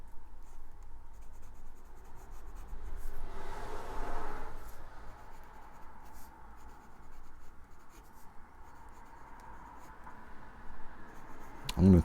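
A Platinum Curidas fountain pen with a medium steel nib writing on paper: soft, faint scratching strokes, strongest in the middle, over a quiet room hush.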